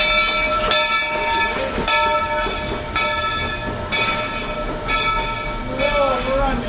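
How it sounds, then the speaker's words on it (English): The Walt Disney World Railroad steam train sits at Fantasyland Station, with a hissing, rumbling train ambience under repeated tonal chime-like sounds and an announcement voice. "the Walt Disney World Railroad is now arriving at Fantasyland Station"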